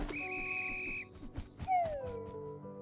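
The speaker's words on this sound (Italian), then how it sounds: "Trovo molto offensivo il tuo fischiare" A person whistles loud, piercing tones, first a steady held note, then after some scattered clatter and voices a sliding whistle that bends downward and fades.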